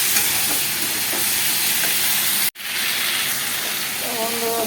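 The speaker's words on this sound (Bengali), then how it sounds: "মানে পুরো ভাজা ভাজা হয়ে গেছে" Spices frying in a pan, a dense continuous sizzle and hiss close up, broken once by a sharp click and a brief drop before the sizzle resumes.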